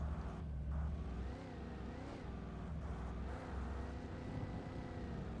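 A car engine in the video game Alan Wake drones steadily, a low continuous hum with slight rises in revs, holding at even loudness throughout without speech.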